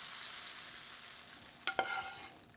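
Tadka sizzles steadily in hot oil for Pakistani haleem, a constant close frying hiss with two brief louder crackles near the end as the tempering hits the pan.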